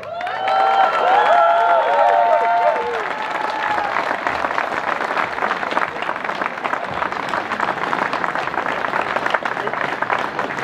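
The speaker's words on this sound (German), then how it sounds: "Einen herzlichen Applaus" Loud, sustained applause from a crowd at an outdoor rally in Salzburg, steady dense clapping filling the whole stretch, slightly fuller at the start, with no talk over it.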